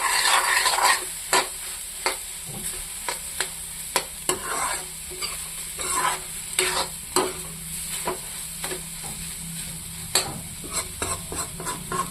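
Scrambled egg frying in a pan and being stirred, with tomato mentioned as an addition: repeated sharp scrapes and taps of a spatula over a steady soft sizzle, close and fairly loud, with no voices.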